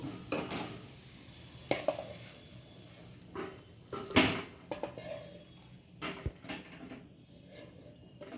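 A spice paste is stirred in a pan while it dries out for a homemade chicken chop filling, with intermittent scraping and clinking strokes over a faint sizzle and no talk.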